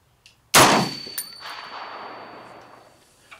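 A single sharp M1A National Match rifle shot rings out at an outdoor range, its crack followed by a ringing metallic clang and a slowly fading echo.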